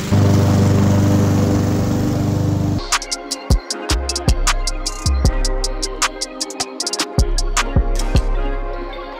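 A lawn mower engine runs steadily nearby, then cuts to a rougher, sputtering idle with repeated sharp knocks and pops.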